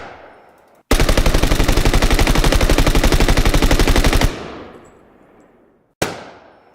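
A rapid, machine-gun-like pistol gunfire loop from a video game's HYDRA mod: loud, evenly spaced shots for about three and a half seconds, then a decaying tail, and a single sharp shot near the end.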